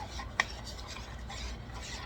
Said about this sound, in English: Mix it up good.